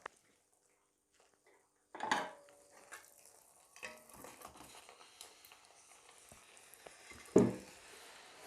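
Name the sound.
chicken being mixed with masala in a pan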